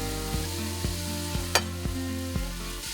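Meat searing in a pan for pumpkin chili, a low steady sizzle with evenly spaced taps and a single sharp clatter midway.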